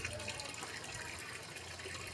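Strong gush of water pouring from a well fed by a newly installed 2 hp screw-type submersible pump, a steady, loud broadband rush that continues unbroken throughout.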